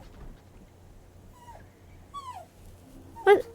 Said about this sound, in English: My dog wants up.